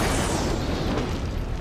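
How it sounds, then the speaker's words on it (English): A controlled explosion in the video game Batman: Arkham Knight, triggered with a power winch, rumbles as a loud, dense, sustained boom that fills the short clip. "I can use the power winch to trigger a controlled explosion."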